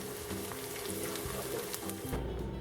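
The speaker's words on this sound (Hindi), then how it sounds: "प्याज को इतना फ्राई करना है कि थोड़ी सी ट्रांसपेरेंट हो जाए या लाइटली ब्राउन हो जाए।" Onions frying in a pan with four or five whole green chilies added, a soft continuous sizzle with faint crackles, fairly quiet and close, no talking.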